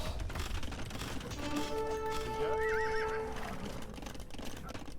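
Horses neigh in the Age of Empires 2 video game, a clear whinny rising in the middle of the clip amid clip-clop hooves and mechanical game sounds, with faint talk underneath.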